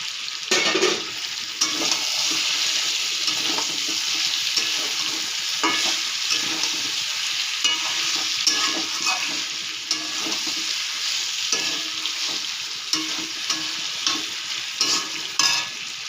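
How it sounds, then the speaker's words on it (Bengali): Pointed gourd, potato and paneer, already fried, are stirred in a hot pan with a steady close sizzle and repeated scraping strokes throughout; no one speaks. "এবারে দিয়ে দেব পটল আলু ভাজা, দিয়ে নাড়তে থাকব।"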